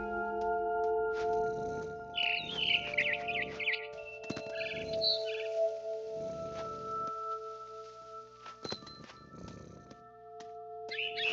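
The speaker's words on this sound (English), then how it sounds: "Then I heard chirping outside my window. It was a barn swallow going back to her nest." In the video game What Remains of Edith Finch, a barn swallow near a window gives high, bright chirps in short bursts over a low, steady purring hum and soft ambient tones.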